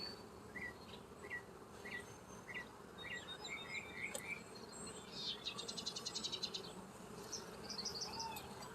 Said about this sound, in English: Got a good amount of bees in here.